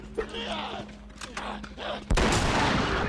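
A gunshot in a mod of The Last of Us video game: one loud, sharp blast after a stretch of quieter game sounds, followed by a dense rumbling tail.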